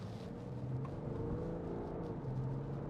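BMW 530d M Sport Touring 3.0 diesel with automatic gearbox pulling hard under acceleration, a steady low engine drone heard from inside the cabin and holding constant for the whole stretch.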